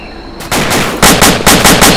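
Automatic gunfire in a military shooter game: loud rapid bursts of shots after a brief quiet start, repeated volleys crackling close and dense for the rest of the moment, with no voices.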